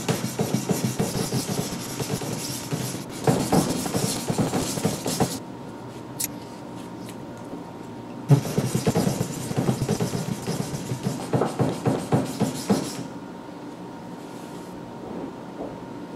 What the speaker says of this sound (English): So I'm just going to keep sanding at 45 degrees going this way